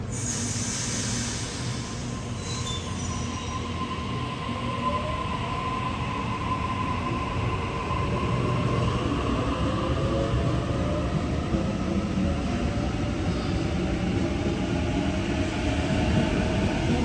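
A Sydney Trains service rolls into a station platform on the South West Rail Link, a broad roaring rumble with hiss and rising wheel whine that swells as it draws near, with no speech.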